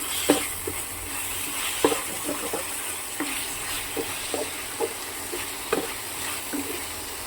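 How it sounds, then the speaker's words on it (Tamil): Chicken sautéing in a pan with spices gives off a soft, steady sizzle, with scattered scraping stir strokes at an even, unhurried pace close by and no voices. "நல்லா இப்போ வதக்கி விட்டுக்கலாம்"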